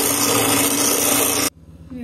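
A hand-held electric mixer whipping cream for a no-bake mango dessert gives a loud, steady whir for about a second and a half, then cuts out abruptly and leaves quiet room sound.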